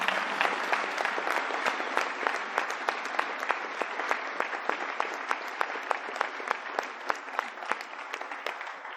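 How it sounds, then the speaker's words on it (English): An audience at the 2021 State of the City event in Spokane Valley breaks into steady applause, many hands clapping in a dense, even patter that holds at moderate level without talk. "And so one more round of applause for both City of Spokane Valley."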